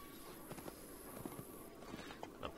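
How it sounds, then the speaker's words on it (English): Horse hooves clip-clopping at a walk in the video game Fallen Earth, a faint, irregular run of soft steps over steady background game ambience. "Park my horse right here."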